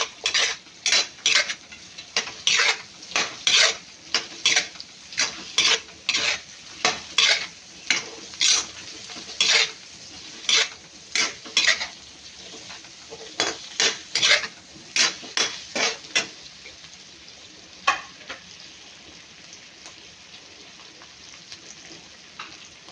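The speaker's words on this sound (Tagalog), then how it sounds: "Maghihalo nga, my loves." A spoon stirs mung bean soup with pork bones in a pot, giving a fast series of close metallic scrapes and clinks in an irregular rhythm that thin out toward the end.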